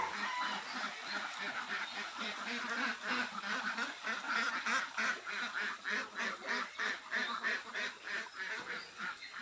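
A flock of ducks on a farm heading toward their pond, a dense, continuous chorus of rhythmic quacking at moderate distance, with some clucking fowl mixed in.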